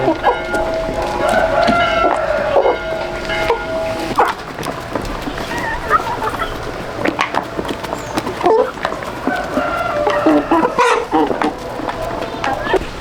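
Chickens clucking and a rooster crowing in a rural yard where the hens are fed, busy overlapping calls throughout with the crow rising clearly near the end, and faint talk in the background.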